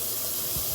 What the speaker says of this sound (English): Water back on.